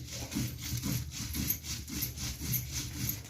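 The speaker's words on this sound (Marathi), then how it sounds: "इथे आजी पाट्यावर मिरच्या वाटून घेते आहेत." Chillies are ground on a traditional flat grinding stone (pata), a soft, rhythmic back-and-forth rubbing and scraping of stone on stone, repeated strokes at an even pace, faint and close with no talking.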